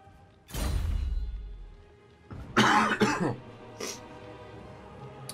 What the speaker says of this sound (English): Apologies, I had to cough then, guys